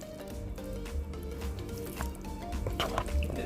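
Potato salad being stirred with mayonnaise: wet squishing and sticky smacks of spoon through coated potatoes, close and fairly soft, in an irregular rhythm of repeated strokes.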